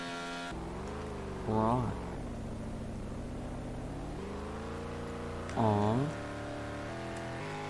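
A car engine in the Car Dealership Tycoon video game drones steadily, its pitch rising and sliding twice in brief revving swells, while a voice speaks a few short words over it.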